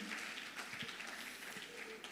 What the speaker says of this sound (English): So please give all of them a round of applause.